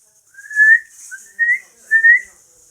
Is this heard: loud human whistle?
yes